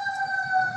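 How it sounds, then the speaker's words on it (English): An ambulance siren in a city street sounds faint and distant, a steady sustained wail under otherwise quiet surroundings. "sorry, there's an ambulance"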